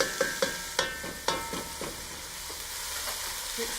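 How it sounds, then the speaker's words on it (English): Onions and minced garlic on lowish heat, given a quick stir: several crisp spoon knocks against the pan in the first seconds over a soft, steady sizzle. "Quick stir."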